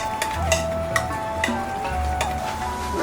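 A spoon works sesame paste with peanut oil in a small bowl, giving soft, steady scraping and ticking strokes against the bowl, close and clear with no talk.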